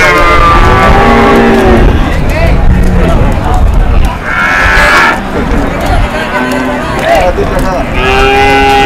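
Cattle at a livestock market in Pati low and moo repeatedly amid a busy crowd, with people talking over the calls and the bustle of the market around them.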